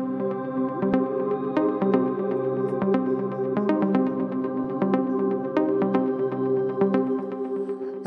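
Mist of Time preset from a distant-voices ambient synth in FL Studio for an Afro House track, a sustained airy pad with steady tonal layers and light rhythmic ticks running evenly throughout, no voices.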